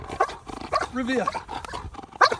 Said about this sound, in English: I can get him to speak or to bark